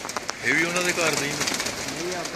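Pigeons coo in soft, rolling calls close by in a rooftop cage, with a voice talking over them.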